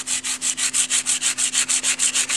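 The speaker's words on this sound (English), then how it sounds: "We can take the sandpaper" A sheet of plastic is sanded by hand with sandpaper in an engraving workshop, about fifteen quick, even rasping back-and-forth strokes in a close, steady rhythm, with no talking.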